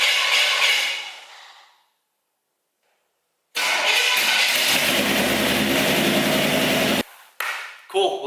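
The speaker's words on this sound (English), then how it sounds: "With a little bit of cranking, she fired up." Truck engine cranks briefly and fires up, settling into a loud close idle after a short silent gap, then cutting out with a few sputters at the end.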